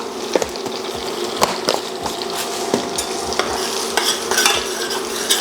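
Bacon and minced onions fry in butter in a pan, a steady loud sizzle broken by repeated scraping and clinking of a utensil stirring against the pan, with no talking.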